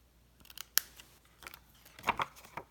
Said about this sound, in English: And then we just use our paper snips, snip this off,